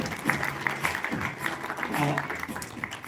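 Audience applause at a film trailer launch event, a steady burst of clapping mixed with a voice talking over it.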